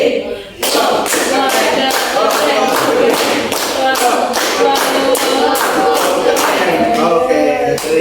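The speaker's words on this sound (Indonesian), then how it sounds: "Mungkin Bu Pamiati kita berikan tepuk bawah ya" A group claps a rhythmic patterned tepuk bawah cheer for a teacher, loud, sharp claps landing in a steady repeating beat close by, with some voices underneath.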